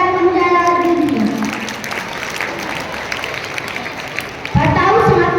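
An audience bursting into applause for a few seconds between stretches of someone speaking, a dense wash of clapping that rises and fades.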